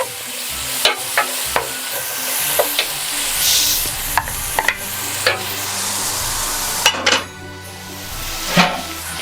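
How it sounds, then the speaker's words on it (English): Celery, carrot and onion sautéing in foamy melted butter for broccoli cheddar soup, a steady close sizzle broken by repeated clinks and scrapes of a utensil stirring against the pot, with no talking. "I'm going to throw in the celery, carrot, and onion."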